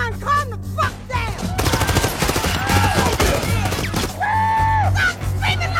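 Film shootout gunfire crackles in dense rapid bursts, loud and close, running under yelling voices and dramatic scoring, then gives way to shouting.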